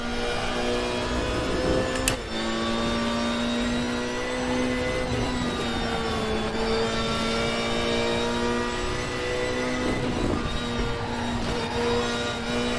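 A GT3 race car engine in the RaceRoom racing game at Bathurst drones steadily at high revs, its pitch shifting up and down through gear changes, loud and continuous with no talking.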